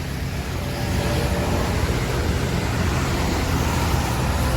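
Intercity bus passing in city traffic, a loud steady roar of engines and road noise building slightly after the first half second and holding constant throughout.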